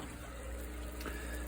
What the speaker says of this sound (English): this might be a bad air stone on this one down here, because there is slight bubbling